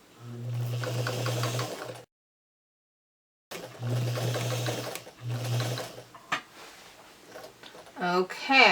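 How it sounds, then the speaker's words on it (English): A sewing machine stitches quilt block pieces for a twisted log cabin quilt in close, steady bursts, stopping briefly and then running again, ending with some handling noise. "we're just going to sew that on, making sure that that seam that we just sewed is the last seam we come to"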